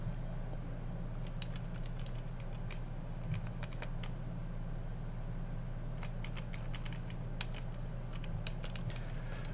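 Light tapping on a Commodore 128 keyboard, quick irregular key clicks in short bursts over a steady low electrical hum, fairly quiet and close, with no talking.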